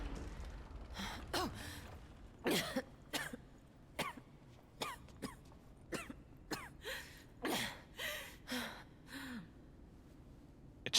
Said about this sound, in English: It just sounds like really light coughs